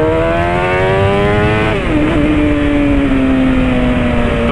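A Suzuki SRAD 750 motorcycle accelerates hard and close up. The engine note climbs, drops sharply at a gear change, then holds a loud, steady roar.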